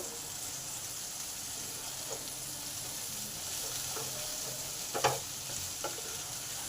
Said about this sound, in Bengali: তার সাথে ধনে গুঁড়ো আর জিরে গুঁড়ো এক চামচ করে দিলাম এবার এইগুলোকে ভালো করে কষে নেব